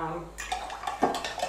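A quick stir of water kefir mixed with bicarb soda in a container, making brief swishing and clinking sounds up close that last about a second.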